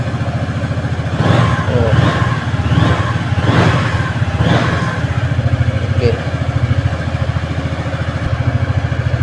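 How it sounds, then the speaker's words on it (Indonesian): A Yamaha X-Max keyless scooter engine runs close up, with a few rising revs in the first seconds before settling into a steady, pulsing idle; someone speaks briefly. "Ini sekarang udah bisa dihidupkan motornya"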